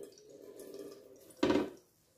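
Water runs and drips from grated cassava being squeezed by hand, a soft trickle that swells into one louder splashing gush and then fades, close by with no talking.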